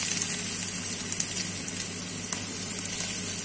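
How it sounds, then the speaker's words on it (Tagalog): Diced potatoes sauté in a little oil in a pan, a steady, even sizzle and crackle that runs unbroken and fairly close throughout, with no voices. "Gisa natin sa konting oil."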